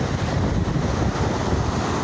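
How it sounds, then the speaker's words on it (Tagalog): Large, rough ocean waves from a typhoon pounding a beach in San Jose, Occidental Mindoro, heard as a steady, loud roar of surf mixed with wind buffeting the microphone, no voices. "Sobrang lalaki ngayon ang alon dahil sa bagyong Falcon."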